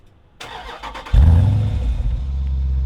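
A click and brief cranking, then a Jeep Grand Cherokee SRT engine catches with a low rumble and settles into a steady, close idle.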